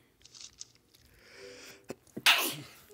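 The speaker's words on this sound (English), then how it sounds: "Oh no, I gotta sneeze." A single loud, close sneeze from a man, with a breathy intake before it and a sharp burst at the end, preceded by faint mouth sounds.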